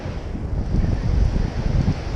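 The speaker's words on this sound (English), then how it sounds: "The best part about this is we have the wind on our backs" Strong wind buffets the microphone while cycling along hard sand on a beach at Cumberland Island, a loud continuous low rumble with gusty swells and no talking.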